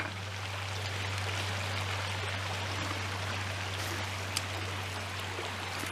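A woodland stream flows in a steady, soft rush of water, heard from nearby along a trail in Boyne Valley Provincial Park, with a constant low hum underneath and no talking.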